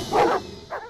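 Two quick dog barks, a louder one and then a shorter, softer one, close by with nothing else around them.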